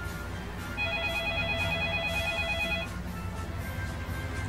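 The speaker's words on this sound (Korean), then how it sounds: "그러나 이때 울리는 상관의 전화." A telephone rings with a bright electronic warble for about two seconds, then falls silent, over a low steady background hum.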